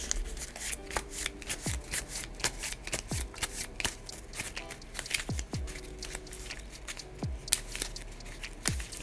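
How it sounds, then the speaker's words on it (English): Marvel Champions game cards being shuffled by hand at close range, a quiet series of crisp riffling bursts and soft slaps repeating every second or so. "All right, so let's shuffle. Gotta spread these out."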